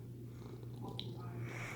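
A cuddly cat purrs continuously up close, a low steady rumble that carries through the whole moment with a faint small noise in the middle and no speech.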